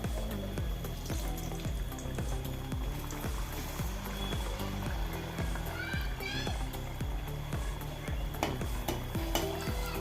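Banana fritters (pazham pori) fry in hot oil with a constant close sizzle, overlaid by a rhythmic, regular clunking of a utensil stirring or knocking the pan.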